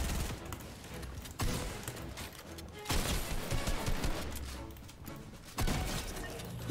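Video game weapon unleashing heavy bursts of gunfire, loud and close, with several dense volleys separated by brief gaps.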